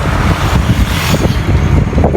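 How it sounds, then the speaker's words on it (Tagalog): Heavy road traffic in Batangas City rumbles close by as a continuous, loud wash of car and truck engine noise with passing swells, and no voices. "Grabe traffic dito."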